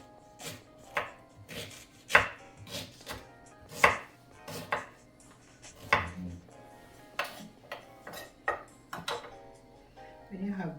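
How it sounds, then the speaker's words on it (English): A knife chops a honeydew melon on a board, giving sharp, uneven cutting knocks at a steady pace, close and fairly loud, with a voice talking between the cuts. "this is my honeydew I'm cutting"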